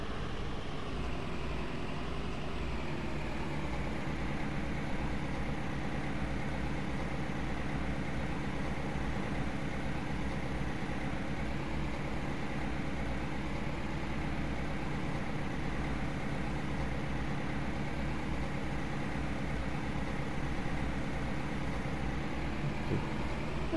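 An 80-horsepower tractor in Farming Simulator 22 idles with a steady, loud, low engine rumble that holds unchanged throughout, with no voices over it.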